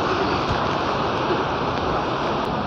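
Waterfall water rushing and splashing, a dense, loud, unbroken roar up close with wind buffeting the microphone, no voices.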